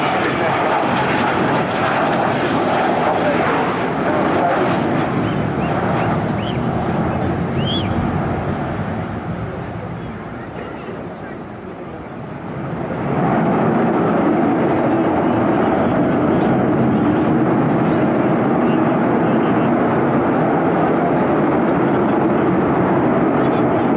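An Avro Vulcan B2 bomber jet flies past at the Bournemouth Air Festival with a loud, sustained roar that dips briefly midway and then swells again, heard under steady public-address commentary.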